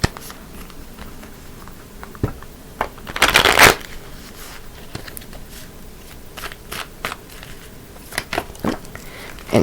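Tarot cards shuffled and drawn during a workplace-romance reading, with one loud riffling burst near the middle and scattered lighter card flicks and slides before and after, close and clear with no talk.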